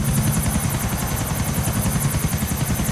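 A GTA video game helicopter's rotor chops loudly and rapidly in a steady, unbroken rhythm, close and constant throughout, its blades damaged from a collision.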